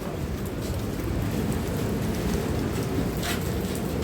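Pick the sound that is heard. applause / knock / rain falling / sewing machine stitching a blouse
rain falling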